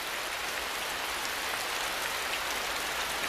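Steady, dense hiss of heavy rain falling on a tropical Asian rainforest canopy, an even wash of drops on leaves that holds constant throughout with no voices.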